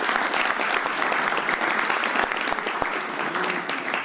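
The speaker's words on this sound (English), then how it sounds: "a big round of applause for Gail as well" A lunch crowd gives steady, dense applause for the new Agriculture Minister at an event with the Premier of Victoria, continuous clapping without pause at moderate loudness.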